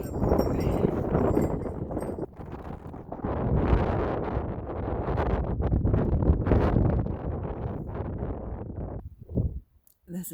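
Strong wind buffeting the microphone in a high mountain cirque, loud irregular gusts and rumbling roar that rise and fall, dropping briefly to near silence before another burst.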